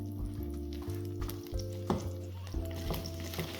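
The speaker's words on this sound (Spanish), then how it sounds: "en esta mantequilla vamos a añadir los champiñones y los vamos a sofreír todos muy bien" Mushrooms sauté in melted butter with a soft, steady sizzle, joined by occasional stirring clinks and scrapes in the pan under a low background hum.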